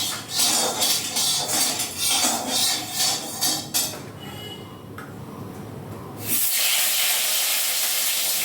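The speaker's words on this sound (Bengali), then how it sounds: "লবণ হলুদ মেখে আলু বেগুন ভেজে নেব।" Potatoes and aubergine slices coated in salt and turmeric fry in white oil in a wok, giving a loud, steady sizzling hiss with clattering bursts early on and a sudden brighter surge of spitting near the end.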